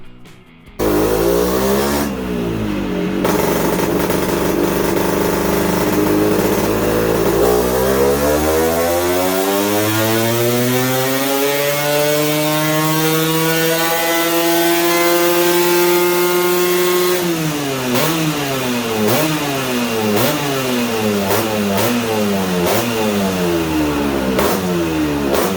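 A Vespa P125X scooter fitted with a 252cc Quattrini engine revs hard, rising through a long climbing pitch sweep, then blips repeatedly in sharp up-and-down revs, loud and close with no talking.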